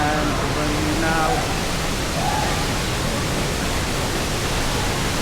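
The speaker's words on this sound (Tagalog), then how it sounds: "ito po yung Taytay Falls dito sa Mahayhay, Laguna" Taytay Falls in Majayjay, Laguna, roars as a steady, loud wash of falling water close by, with a voice briefly audible over it early on.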